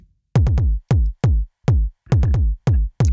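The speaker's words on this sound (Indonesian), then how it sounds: "Ini suara kick-nya." Deep synthetic kick drum from a drum machine run through a Zoom L6 mixer, a string of booming, pitch-dropping thumps in an uneven pattern, close and punchy with silence between hits.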